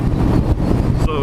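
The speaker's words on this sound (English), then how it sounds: "You hit an open field and all of a sudden you just get wind out of nowhere." Strong hurricane wind roars and buffets a microphone out on an open stretch of road, a loud continuous rush with low rumble, and a voice briefly cuts in near the end.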